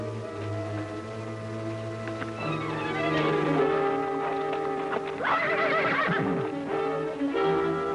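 Horses are ridden off in an old western TV show, with loud whinnies and a sharp neigh over steady clip-clopping hooves and no talk.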